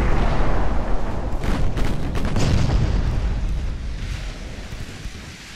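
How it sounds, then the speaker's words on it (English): A naval gunfire salvo strikes a ship in the Ultimate Admiral Dreadnoughts naval battle game: deep rumbling booms and blasts, loud at first and slowly fading into a low roar. "He just walked into a whole salvo."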